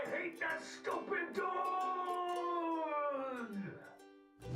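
Cartoon dogs howl in a long, wavering, rising-then-falling harmonic wail lasting several seconds, preceded by short yelping bursts, loud and close with little else around it.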